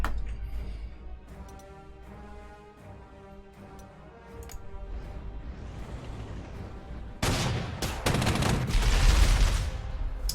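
Anti-aircraft gun fire in the WWII strategy game Panzer Corps 2: a run of rapid bursts and loud booms over background music, growing denser and louder toward the end.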